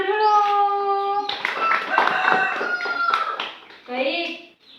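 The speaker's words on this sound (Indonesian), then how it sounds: "Tepuk tangan dulu." Children's voices chant and call out in a fifth-grade classroom, with a burst of hand clapping in the middle, close and lively.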